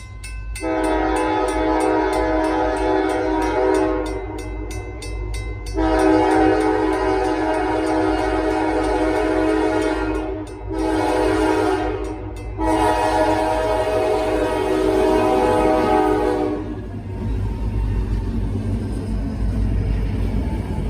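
An SD40-2 diesel locomotive, number 3403, passing with repeated loud horn blasts in several long sounds and short breaks over a continuous low rumble of the engine and rolling wagons.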